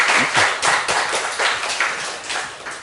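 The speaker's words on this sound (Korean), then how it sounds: "환영의 박수 한번 하겠습니다" A Sunday church congregation claps to welcome a visitor, the claps landing in quick, fairly even bursts that sound close and lively, with no talking.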